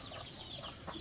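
Backyard chickens, mother hens among many small chicks, cluck and peep faintly in a short, busy burst of overlapping calls.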